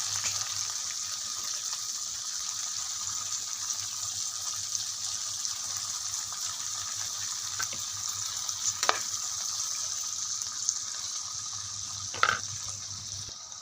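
String beans go into a hot frying pan and sizzle steadily and evenly for several seconds, with a few faint clinks of stirring.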